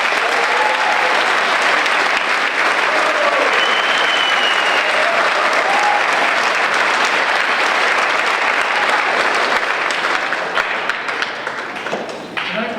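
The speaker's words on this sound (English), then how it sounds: "just another round of applause for the students" An audience at a junior high school graduation ceremony claps for the students: dense, loud, steady applause filling the hall, holding strong for most of its length before tapering off slightly near the end.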